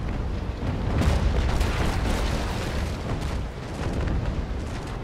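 Naval cannon fire in a large fleet battle involving the USS Constitution in the Naval Action game, heard as a continuous barrage of deep booming blasts and rumbling explosions overlapping one another, loud and dense, with no voices.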